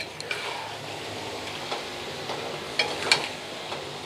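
Pre-fried potatoes are stirred into chicken frying in a ground spice paste with no water added, giving a soft, low sizzle broken by light scrapes and clicks of a spoon against the pan.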